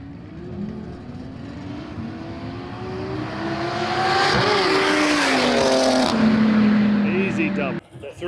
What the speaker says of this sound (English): Another race for Lenny and the racing against the G80